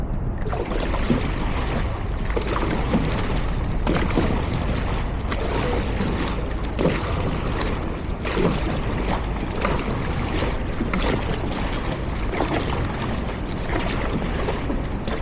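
Continuous rush of water and splashing with repeated dragon boat paddle strokes in a steady rhythm, loud and close throughout, no talking.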